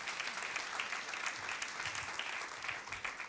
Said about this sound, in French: applaudis ça si tu veux